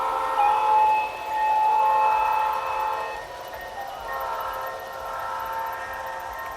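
Garden railroad model trains running on tracks overhead at an outdoor arboretum, with a rumbling run of cars and sustained horn or whistle tones that sound in a few long blasts and then fade.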